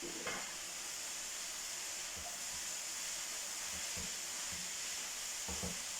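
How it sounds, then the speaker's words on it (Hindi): Cabbage stir-fried in a pan over a medium-high flame for a Chinese samosa filling, giving a steady broad sizzle and hiss with a few soft stirring scrapes and knocks scattered through, with no voices. "अब थोड़ा सा बंद गोभी को मिक्स करके अच्छी तरह इसको भी नरम होने देंगे"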